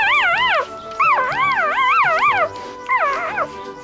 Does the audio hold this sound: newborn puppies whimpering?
yes